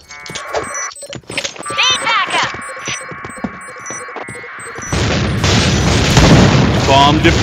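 A grenade goes off in a video game, a sudden loud boom that swells into a long roaring rumble after earlier electronic beeps, clicks and game voices.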